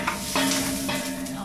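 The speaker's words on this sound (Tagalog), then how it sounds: "Gigisa na natin yung ating bawang at sibuyas." Garlic and onion sautéing in oil in a pot for soup, a close, continuous sizzle with scraping stirring strokes and no talk.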